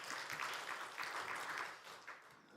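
A congregation applauds during a Sunday church service, the clapping fairly faint and steady for a few seconds before thinning slightly toward the end.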